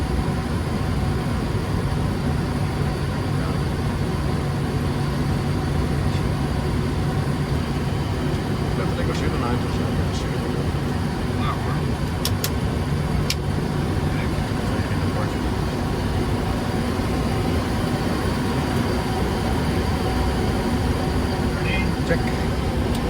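Steady, loud broadband roar of a Boeing 737 beginning its takeoff roll at Amsterdam on a calm, nearly windless day, engine noise holding constant throughout with faint cockpit voices underneath.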